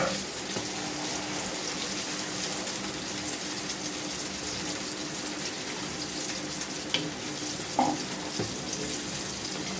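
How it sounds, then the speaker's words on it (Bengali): Water pours steadily into a pot of large-fish curry with jackfruit seeds, a continuous gushing, splashing stream that runs close and unbroken for about ten seconds with no talking. "পানি দিয়ে দিই পরিমাণ মতন"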